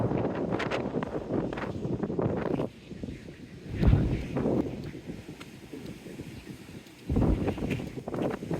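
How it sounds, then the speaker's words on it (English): Strong wind on the seawall at Teignmouth buffets the microphone in heavy gusts, roaring and rumbling close up, easing briefly before surging again. "Yes, the wind is really picking up now."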